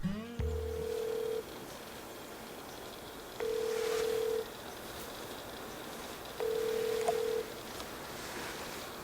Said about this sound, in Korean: 또다시 전화를 들었습니다.